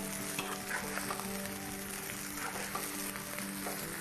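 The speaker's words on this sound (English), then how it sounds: "we're going to kind of stir the egg into the rice" Egg being stirred into frying chicken fried rice in a hot pan, a steady close sizzle with light scraping stir strokes running throughout, no talking.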